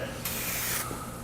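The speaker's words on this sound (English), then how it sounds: "I'm surprised at the range of fogging that the nozzle does on this thing" Spray nozzle fogging clear coat over a Raptor truck bed liner, a steady broad hiss that swells loudly for about half a second in the middle of a quieter ongoing rush.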